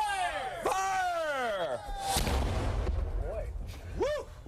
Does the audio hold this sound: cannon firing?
yes